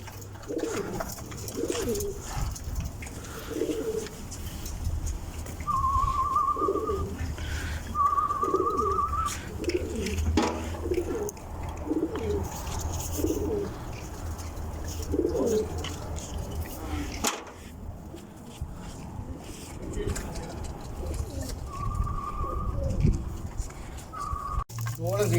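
Pigeons coo on a rooftop in Saudi Arabia, where racing pigeons are kept, with repeated soft low coos in a steady rhythm at moderate distance. Someone talks intermittently over the cooing, with a few high whistles and background hum.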